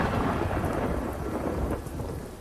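A thunderstorm sound effect for a Hindi horror story: dense, steady rain with a low thunder rumble underneath, loud and continuous with no speech.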